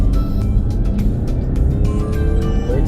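A Mazda CX-9 Signature engine starts and settles into a loud, steady idle close by, its low rumble filling the whole stretch with no talk.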